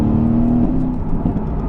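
A sports car accelerates hard on a road, its engine roaring loud and steady from inside the cabin with a rising tone that tails off near the end.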